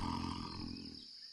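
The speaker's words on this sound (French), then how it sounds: "Ici par exemple, on entend le jaguar." Jaguar roar from the soundtrack of a board game, one deep, growling roar that fades out over about a second, heard alone with no talk.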